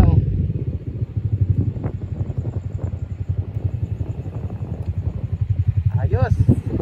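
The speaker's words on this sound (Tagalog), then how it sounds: "Ang ingay ng motor." Loud, chugging motorcycle engine idling and revving with a fast pulsing rhythm close by, while someone talks over it.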